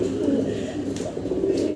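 Pigeons coo in a dense, continuous burbling, close and fairly loud, the low throaty calls overlapping until they cut off abruptly at the end.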